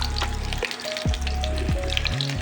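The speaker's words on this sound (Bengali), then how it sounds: "পুরো কুমড়োটা দিয়ে আমি একটু ভালো করে ভেজে নেব।" Large cubes of pumpkin frying in oil with cumin seeds and dried red chilli: a loud, crackling sizzle, close, broken by a few low scraping stirs and a thin tonal squeal, with no voices.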